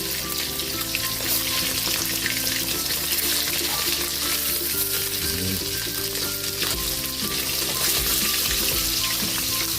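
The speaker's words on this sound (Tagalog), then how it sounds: "Baliktarin na natin yung ating pritong isda." Espada fish fries in hot oil and is turned over, giving a loud, dense sizzle and crackle throughout with scraping and stirring noises as the pieces are flipped.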